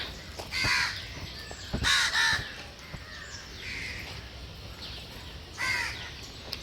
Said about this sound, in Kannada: ಇಲ್ಲೆಲ್ಲ ಕಾಗೆಗೆ